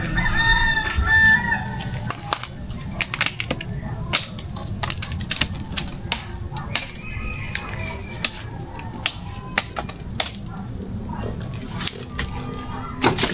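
Chickens cluck in the background amid constant sharp clicking and snipping taps as something is cut for a new chicken pen, with an occasional faint rooster crow and some people talking.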